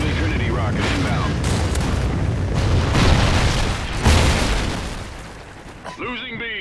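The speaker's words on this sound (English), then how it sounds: "Friendly Trinity rocket inbound." Trinity rocket strike in the multiplayer shooter Call of Duty: Ghosts, a heavy rumbling explosion with booming bursts that swell and fade over several seconds, while a voice talks over it.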